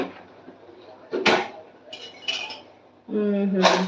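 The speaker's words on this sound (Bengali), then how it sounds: "খুন্তিটা এখানে রাখলাম" A few metallic clanks and scrapes as a metal spatula knocks against a wok, with a voice speaking briefly at the end.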